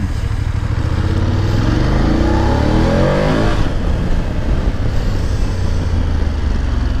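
A loud BMW F850GSA adventure motorcycle engine revs and roars close by, holding a steady heavy drone with a rising pitch sweep partway through. No one speaks.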